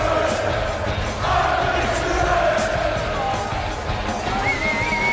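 A packed darts arena crowd roars and cheers steadily as Luke Humphries plays to them during a PDC Premier League semi-final against Nathan Aspinall, a dense, loud wall of voices with whoops rising above it.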